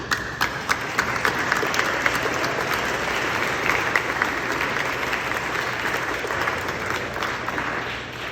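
A graduation audience applauds steadily in a large hall, dense clapping from many hands holding an even level throughout with a faint whoop now and then and no speech.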